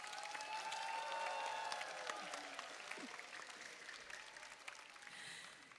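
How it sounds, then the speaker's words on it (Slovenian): Applause from the audience at a school choir festival in an outdoor atrium of a primary school in Maribor, a broad crowd clapping that swells then gradually thins, with some cheering and faint voices mixed in. "Aplavz."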